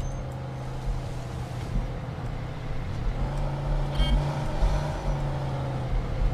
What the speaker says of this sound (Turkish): Gaza basmasak da araba burada hızlanıyor zaten.